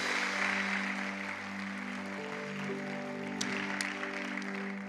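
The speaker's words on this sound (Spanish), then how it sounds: "Dele un aplauso a Jesús que está vivo." A church congregation applauds during a lively worship service, a steady wash of clapping over sustained organ or keyboard chords and music, moderately loud and continuous, with a few sharper accents near the end.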